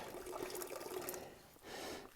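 Water trickles from the spigot of a trail water tank, a faint, steady splashing stream that pauses briefly near the end before resuming.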